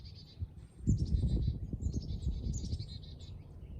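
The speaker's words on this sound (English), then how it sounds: "So we're hearing a group, probably a family group of Carolina chickadees here." A family group of Carolina chickadees calls in a run of high, buzzy chickadee-dee-dee notes, sounding a little distant over low rustling and handling noise, with no speech.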